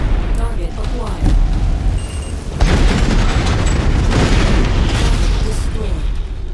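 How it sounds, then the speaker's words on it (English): Airstrike explosions in the mech combat video game MechWarrior 5, a rolling series of heavy booms and rumbling blasts that swell loudly midway and keep crackling, with a voice talking over part of it. "Our employee reports airstrike support is inbound on your position."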